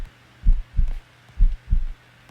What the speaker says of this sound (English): You could probably hear Noob's heartbeat if you aren't deaf.